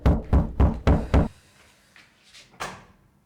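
Five loud, rapid knocks on a door ring out in a steady rhythm, followed by a few faint, scattered thuds and one last sharper tap; no one speaks.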